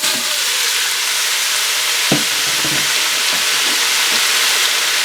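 Ground meat frying and browning in an Instant Pot, a steady loud sizzle with occasional scraping stirs and small pops, close up and without talking.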